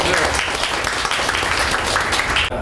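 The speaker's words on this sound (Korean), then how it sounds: "박수." Studio audience applause during a Korean talk show, broadband and dense, sustained steadily for a couple of seconds before cutting off abruptly.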